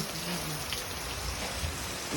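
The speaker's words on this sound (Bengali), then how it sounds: "আর এই দেখো বৃষ্টি, কত জোরে জোরে বৃষ্টি পড়ছে।" Heavy monsoon rain pours down in Kolkata, a dense steady roar of drops on surfaces that continues unbroken and evenly loud throughout, with no talking.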